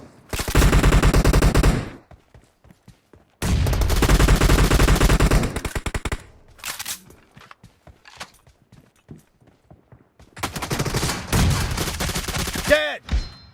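M416 and Scar-L rifles fire in long automatic bursts during a fast team deathmatch shooter game, loud and close, with two sustained volleys separated by quieter gaps, scattered shots, and a final burst ending in a short swooping game effect.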